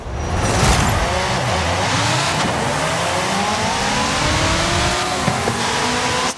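A Chingar car in Forza Horizon 5, four-wheel drive, launches hard and accelerates, its engine note climbing steadily through the gears as a loud, continuous roar with brief shift dips and faint tire squeal.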